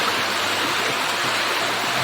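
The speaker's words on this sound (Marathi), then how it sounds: "वादळ वारा सगळं पाऊस पाऊस जोरात आलेला" Heavy rain falls during a storm in Ratnagiri, Konkan, as a dense, continuous rushing wash of water, loud and unbroken, with no voices.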